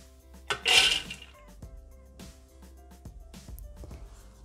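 A short rattling pour of almonds into a food processor jug, followed by sparse light clinks and knocks.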